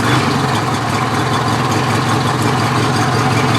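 A Craftsman GT6000 garden tractor fitted with a cab and snowblower idles close and loud, a continuous, even engine rumble with no talk over it.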